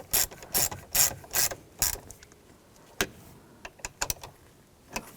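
A ratchet clicks in short bursts while snugging down the screws on a 2014-2018 GMC Sierra 1500 ignition switch box, with quick pawl ticks close up and brief pauses between strokes.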